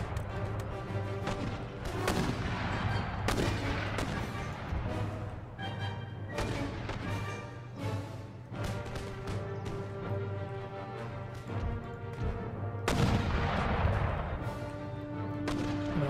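Cannon fire from artillery during a siege battle in Empire: Total War, heard as a string of irregular thuds and cracks scattered across a busy bed of orchestral music and battle din.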